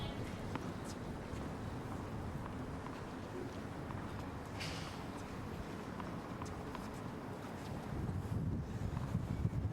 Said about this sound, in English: As you can hear, the wind really starting to pick up.